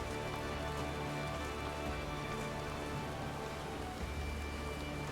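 Steady rainfall in the Final Fantasy XIV game world, a dense, constant patter of drops on surfaces with a low ambient hum beneath, uniform and unbroken, no voices.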